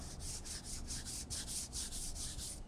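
A hand rubbing across car paint and glass roughened by embedded contamination makes a dry, raspy scraping in steady back-and-forth strokes, close up and alone.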